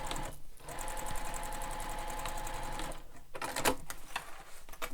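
A sewing machine sews the corner triangles of a backpack. A close, steady run of rhythmic mechanical stitching is broken by short pauses and a few handling clicks.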